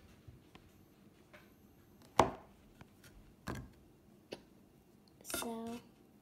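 Knife slicing thin pieces from a block of watermelon soap scented with lavender: a few distinct soft cuts and squishy thuds spaced apart, close up and fairly quiet, with a brief scraping rustle near the end.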